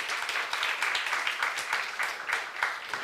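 Church youth congregation applauds during a sermon, a continuous wash of many hands clapping, soft and distant throughout.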